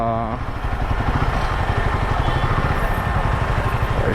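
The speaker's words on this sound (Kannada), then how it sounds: "ಏನು ಟ್ರಾಫಿಕ್ಕು ಮಾರಾಯ." A motorcycle engine chugs steadily at idle nearby, a rhythmic low putter with a busy background hum of surrounding traffic.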